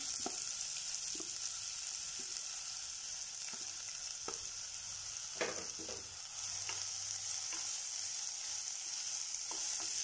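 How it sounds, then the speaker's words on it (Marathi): Onion frying in a pan for a dhaba-style chicken curry, a steady close hiss of sizzling oil with a few scattered taps of stirring. "कांदा चांगला फ्राय झाला आहे आपलं."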